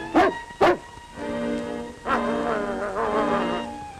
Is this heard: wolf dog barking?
yes